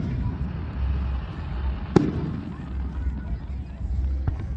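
Outdoor fireworks explode at night, a sharp distant bang near the middle and a fainter one at the end, over a windy background rumble with occasional voices.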